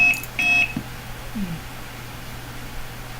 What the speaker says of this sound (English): here's the beep thing